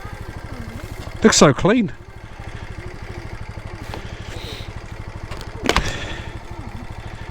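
A 125cc motorcycle engine idles with a steady low putter on its last little ride, while a person briefly speaks over it.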